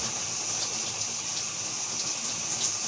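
A shower with a 1.8 gallon shower head runs as a steady, dense hiss of spraying water, close and constant throughout, with no voices.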